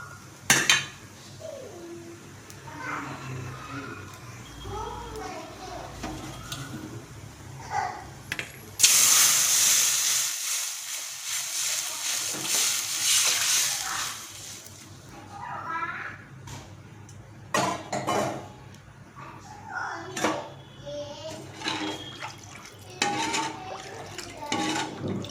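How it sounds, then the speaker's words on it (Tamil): Tamarind water is poured into a hot cooking pan and sets off a loud hiss and sizzle lasting several seconds. Quieter clinks of utensils and cookware come before and after it. "இந்த ஸ்டேஜில் நம்ம கரைச்சி வச்சுருக்க புளி தண்ணியை சேர்த்துக்கலாம்."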